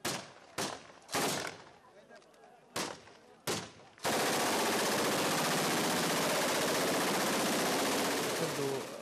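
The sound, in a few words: gunfire shot into the air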